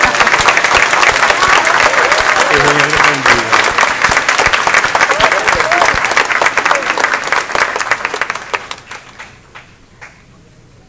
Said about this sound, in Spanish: Ahora se da un besito y le damos un aplauso.